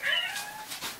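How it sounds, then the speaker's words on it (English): A domestic cat gives a single close, clear meow that rises and then falls over about a second in a quiet room. "The kitty."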